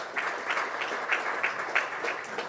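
A seated audience at a forum gives moderately quiet, steady applause as a speaker is welcomed, with a few individual claps standing out from the even patter.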